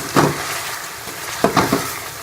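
Beef fries with yogurt masala and green chillies in a karahi, a close sizzle punctuated by a few distinct scraping strokes of a spoon against the pan.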